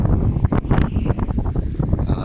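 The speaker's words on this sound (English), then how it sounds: "that's the wind" Wind buffets a microphone outdoors in a garden, loud and gusty with rumbling bursts throughout, no voices.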